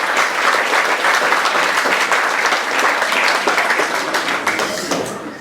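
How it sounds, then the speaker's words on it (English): A crowd at a hurling club final applauds for the officers and ground staff, with dense, sustained clapping and sharp individual claps that slowly taper off toward the end. "deserve a big round of applause for all their hard work today and throughout the year"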